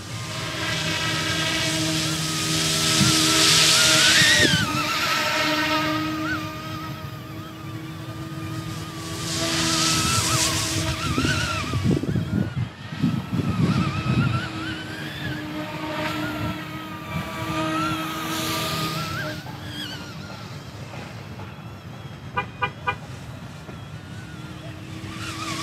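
An Eachine E250 AH-64 Apache RTF RC helicopter in flight, its whining rotor and motor drone rising and falling in pitch as it moves nearer and farther, loudest early on, with a brief rustly disturbance midway.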